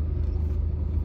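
Inside a car stuck in heavy evening city traffic, a steady low engine and road rumble drones continuously without voices.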